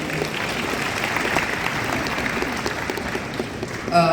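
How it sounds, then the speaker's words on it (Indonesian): A conference audience applauds, a broad, steady wash of many hands clapping that holds at an even level for about four seconds before tailing off. "Boleh kita beri tepuk tangan teman-teman semua."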